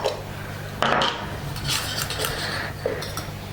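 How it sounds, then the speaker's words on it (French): A utensil stirs homemade lip and body balm in a small container, brief scraping and clinking against the sides, close and soft with no talking. "je touille un peu"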